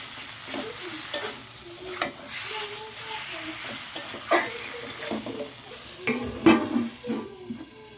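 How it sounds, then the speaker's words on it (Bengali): A pan of chicken being stirred for a pizza topping, kept fairly dry: repeated scraping strokes of a utensil over a steady sizzle, close and moderately loud, with no talk. "এইবার নাড়াচাড়া করে একটু ঢাকা দিয়ে দেবো"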